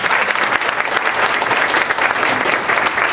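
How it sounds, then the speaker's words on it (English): A leadership conference audience gives a hearty round of applause, dense continuous clapping filling the hall at close range, with faint voices barely showing beneath it. "Everybody give Devin a round of applause."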